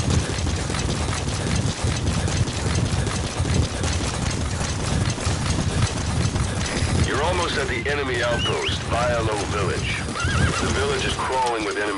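A horse whinnies loudly in Metal Gear Solid V, with hooves clip-clopping beneath steady game ambience; the neighs come in a few strong, wavering bursts in the latter half, close and prominent.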